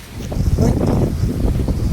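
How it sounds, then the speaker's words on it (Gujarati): Steady gusting wind buffets the microphone with a broad, low roar, continuous and close, with no one speaking. "મસ્ત પવન આવે ઠંડો"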